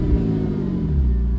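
A McLaren GT's engine revs up close and loud, a deep, steady mid-range growl that rises and holds through a short burst.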